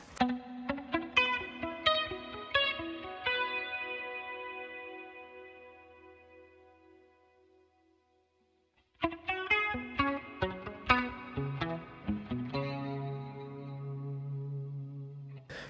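Electric guitar played through a large plate reverb effect with an 80s tone: picked chords and notes ring out in a lush, long shimmering tail that fades to silence, then a second phrase of bright plucked notes follows with sustained reverb.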